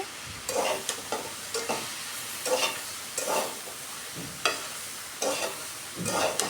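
Soaked chana dal goes into a frying raw jackfruit curry and gets stirred. A steady sizzle runs beneath regular scraping spoon strokes about every half second, close and clear.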